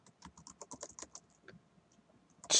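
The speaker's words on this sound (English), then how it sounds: "Now if you just type in Rumsfeld" Quick bursts of keystrokes on a computer keyboard, an uneven run of close taps that thin out and pause, ending in a sharper click.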